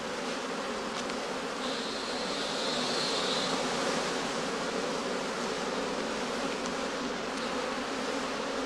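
Honey bees forage on heather blossom near straw skeps in a skep apiary in late summer, a steady dense buzzing hum that carries on throughout without pause, with no voices.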